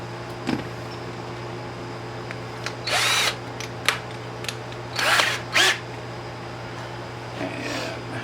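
A power drill whirs in several short bursts against a steady background hum, with pauses between each burst.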